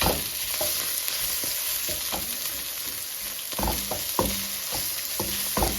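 Shallots stir-fry in olive oil with a constant bright sizzle, while a utensil taps and scrapes the pan in irregular clicks, close and clear with no talk.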